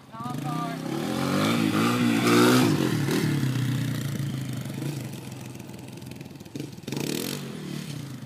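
Honda CRF 230F dirt bike engine revving loudly nearby, peaking after a couple of seconds, then droning and fading as the bike rides off, with a brief burst of noise near the end.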